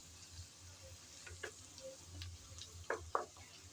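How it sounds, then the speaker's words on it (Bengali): Prawns fry with onion and garlic in a pan, giving a soft, quiet sizzle with scattered light ticks and a couple of sharper stirring clacks near the end. "এভাবে পেঁয়াজ রসুনের সাথে চিংড়িটাও ভেজে নিচ্ছি।"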